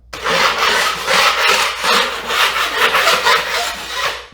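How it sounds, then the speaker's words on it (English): A metal drywall knife scrapes repeatedly across dried joint compound on a drywall hole patch, knocking down high spots in a steady series of close, rasping strokes with brief pauses between passes. "I want to knock down any of the high spots or imperfections, and I'm going to use the drywall knife for that"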